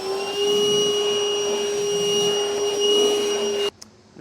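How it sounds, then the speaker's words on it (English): A vacuum cleaner picks up metal drilling debris from a 2021 Chevrolet Silverado truck bed. Its loud, steady whine runs close by and then cuts off sharply near the end. "I'll now use a vacuum and get all this mess cleaned up."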